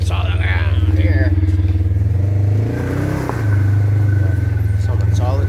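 An ATV on Traxion Glacius studdable winter tires rides through deep snow, its engine droning loudly and steadily with a brief dip mid-ride, while a rider talks over it.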